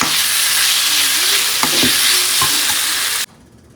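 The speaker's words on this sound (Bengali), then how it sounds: "এটা ভালো করে কষিয়ে নিয়ে তাতে এর মধ্যে দিয়ে দেবো জল" Mashed pumpkin-leaf paste fries and sizzles in a pan while being stirred, a loud, continuous sizzle broken by a few scraping stir knocks before it cuts off abruptly near the end.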